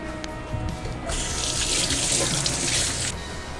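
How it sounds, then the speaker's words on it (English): Tap water runs steadily into a kitchen sink as hands are washed between cooking steps, a bright rushing splash that swells after the first second and continues close and loud to the end. "before I do anything else I'm going to wash my hands"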